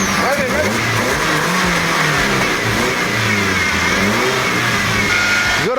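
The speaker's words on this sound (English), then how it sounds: "Tell him to rev it." Car engine revving steadily after a new starter was fitted, a continuous mid-pitched drone with rising and falling tones in a game setting, fairly loud throughout with no pause.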